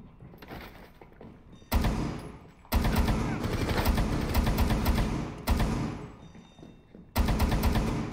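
Loud bursts of automatic gunfire from Rainbow Six Siege, in a hostage-protection match: several sustained volleys of rapid shots separated by short quieter gaps, up close and dominant.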